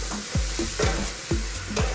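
Onions frying in a pan for an Ethiopian doro wat spicy chicken stew, stirred in repeated scraping strokes about every half second over a steady close sizzle, with no talking.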